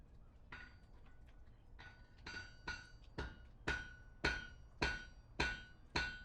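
Hammer strikes ring out one after another at an even pace, getting louder, with a metallic ring and a faint background hum.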